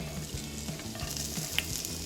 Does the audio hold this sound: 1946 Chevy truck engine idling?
no